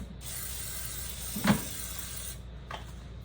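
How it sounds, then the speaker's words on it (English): Cooking spray is given one quick burst into a 9x13 baking dish in a home kitchen, a steady hiss lasting a couple of seconds with a small clunk partway through, and nobody talking. "we're gonna give our 9x13 baking dish one last spray"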